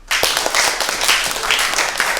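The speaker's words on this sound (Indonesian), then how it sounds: "tepuk tangan buat kalian semua" Students in a high school classroom break into applause, a dense burst of many hands clapping that starts abruptly and continues loud and steady to the end.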